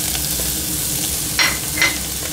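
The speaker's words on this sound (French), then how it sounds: "Alors maintenant on va cuire les champignons," Small dwarf chanterelles from Sologne, France, frying in butter in a pan: a steady, close sizzle with two brief brighter crackles as the mushrooms are stirred, no voices.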